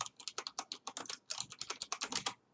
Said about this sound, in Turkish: Öncelikle klavyemden fazla ses gelebilir.